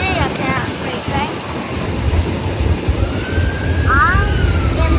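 A freight train passes close by, a loud, steady rumble of rolling cars with a wavering horn sounding partway through and people talking over it.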